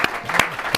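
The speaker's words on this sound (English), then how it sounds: "I'm definitely calling my round of applause" Very short, sparse clapping from a small audience after a guest is thanked, a few distinct close hand claps within a second.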